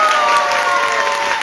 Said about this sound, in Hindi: तो मान साहब के लिए एक बार जोरदार तालियां होनी चाहिए दोस्तों।